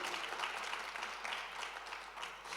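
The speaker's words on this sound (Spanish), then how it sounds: "Dale el mejor aplauso al Señor" A church congregation claps together in sustained, steady applause during a worship service, a dense wash of many hands at moderate distance with no pause across the stretch.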